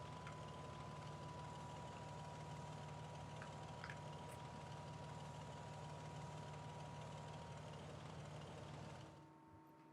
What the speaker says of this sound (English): hopefully that will be kind of a cool engine stopping noise